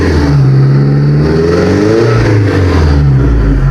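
1988 Nissan Hardbody pickup with a swapped SR20DET engine, revved hard and held steady close up, loud and continuous with a rising and falling pitch and no talk over it.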